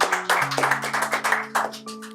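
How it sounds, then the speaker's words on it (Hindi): An audience at a Hindi poetry reading bursts into loud applause that rises and falls in waves for about two seconds, with a sustained musical tone running underneath. "क्या तो जोरदार तालियां"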